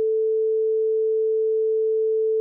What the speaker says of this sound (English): the first one was a simple sine wave like this